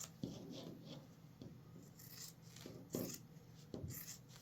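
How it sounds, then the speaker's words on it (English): Scissors trimming the edges of sewn fabric for a rooster basket, a series of soft, close snips and rustles spaced irregularly, faint and without speech. "Now we're going to trim it up."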